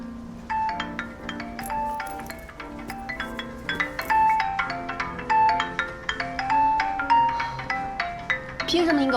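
An incoming call rings on a phone with a melodic ringtone, its bright repeating tune playing steadily for several seconds at moderate volume.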